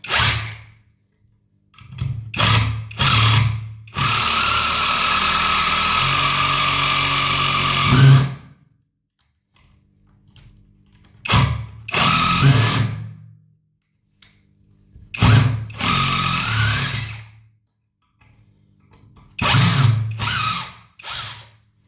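A DeWalt 850 cordless drill-driver drives a 75 mm screw at its fourth speed setting, heard in several loud whirring bursts, one long sustained run of about four seconds, with short pauses and quiet gaps between.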